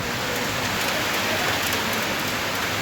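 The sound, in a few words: hail and rain falling during a thunderstorm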